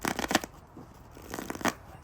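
Linen-finish tarot cards riffled in two quick bursts of crisp, papery shuffling, close by with a short quiet gap between.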